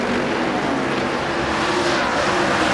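A dense, loud roar of NASCAR Busch Series stock cars racing at the MBNA.com 200, with engines howling together in a continuous wall of sound and no talk.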